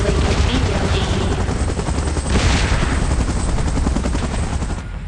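A helicopter in PUBG Mobile thrums loudly and continuously for several seconds, dense rotor noise mixed with gunfire-like bursts.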